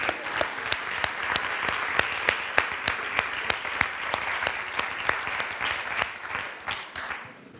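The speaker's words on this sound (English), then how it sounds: "Let's just keep the round of applause going" Sustained audience applause at a Cleveland Book Week reading, a dense bed of many hands clapping with a few sharp, close claps standing out in a rough rhythm before it gradually thins and fades.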